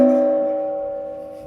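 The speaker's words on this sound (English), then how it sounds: "The gong's safe. Don't worry. Cambodian original." An original Cambodian gong is struck once, loud and close, and its deep metallic ring slowly fades on its own.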